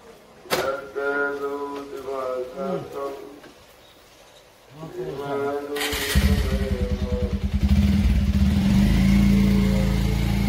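A person speaks at first, then a motorcycle engine starts and settles into a steady, close, throbbing mid-pitched drone as the bike rides off along a village road, staying loud to the end.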